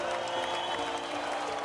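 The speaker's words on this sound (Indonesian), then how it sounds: "Tepuk tangan meriah dari seluruh siswa dan guru memenuhi sekolah." Students and teachers at a school break into applause, a brief dense wash of clapping heard at moderate level with faint crowd murmur beneath.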